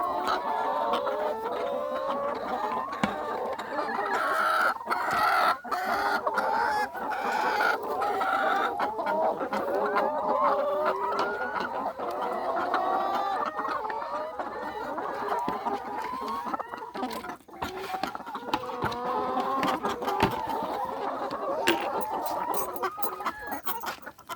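A flock of chickens clucks continuously close by, overlapping cackles and calls filling the whole stretch with steady farmyard chatter.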